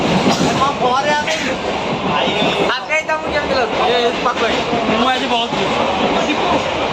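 Train running on rails heard from inside a carriage, a steady loud rumble with rhythmic wheel noise throughout, while people talk over it.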